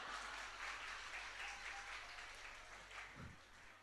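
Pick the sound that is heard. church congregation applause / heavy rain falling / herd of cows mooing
church congregation applause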